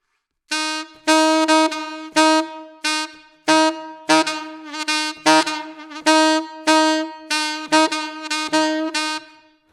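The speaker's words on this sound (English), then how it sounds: "we're going to play back and forth between the two C's, so the regular C and the overtone C" A saxophone plays a series of short repeated notes, switching back and forth between a regular C and an overtone C of the same pitch, one fuller and one brighter and thinner.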